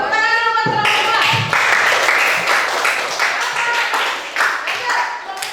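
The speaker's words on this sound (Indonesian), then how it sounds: "Tepuk tangan dulu buat teman-teman." Students in a classroom clap for their classmates, a short burst of scattered hand claps following a voice, with speech continuing over the clapping.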